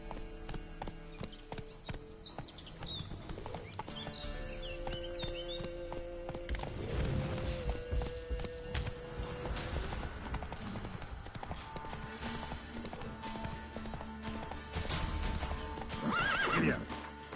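Roach the horse trots through The Witcher 3: Blood and Wine, hooves clip-clopping steadily, with whinnies rising over the ongoing game ambience and music.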